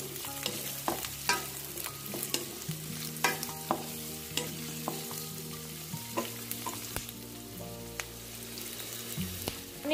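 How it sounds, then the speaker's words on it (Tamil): Onion, garlic, red chilli and ginger fry in butter in a kadai, with continuous sizzling and repeated scraping stir strokes, close and steady throughout, no voices. "ஆனியன், பூண்டு, வரமிளகா, இஞ்சி இதெல்லாத்தையும் நல்லா ஃப்ரை பண்ணிக்கலாம்"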